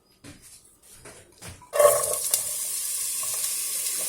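Onions and meat for a Puerto Rican pastelón hit a hot pan and break into a steady loud sizzle after a few soft clinks and stirring sounds.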